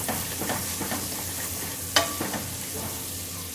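Vegetables sauté in a pan for jackfruit biryani, a close continuous sizzle broken by scraping stirs and one sharper clack of a spoon against the pan near the middle.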